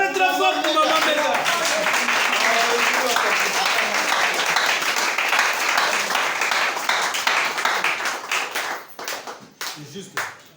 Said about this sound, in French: Acclamez très fort pour maman Béga.